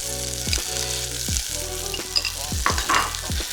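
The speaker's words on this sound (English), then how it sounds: "what we're going to do now is we're going to cook a little bit of the massaman paste off." Massaman curry paste frying and sizzling in a pan, a steady crackle broken by repeated scraping stirs every half second or so, with a low hum underneath and no talking.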